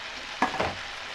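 Brinjals cook in a pan with a faint, low sizzle and two brief scraping clinks in quick succession.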